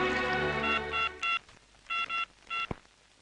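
A telephone being dialed gives a series of short touch-tone beeps in quick groups, close and clear, followed by a sharp click.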